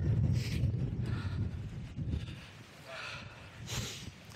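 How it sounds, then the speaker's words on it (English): Gusty wind buffets the microphone in low rumbling bursts on Black Crag in Cumbria, with a few brief hissing gusts and faint snorting sounds. "A little bit windy."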